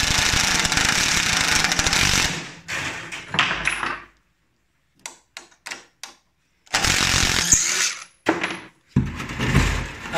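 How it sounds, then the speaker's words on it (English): Drill driving the tuning pegs of a Price & Teeple upright grand piano during demolition: loud, harsh grinding runs broken by short pauses and clattering clicks, close up with no talk. "if you can get a drill attached to the tuning pegs, it's not that bad"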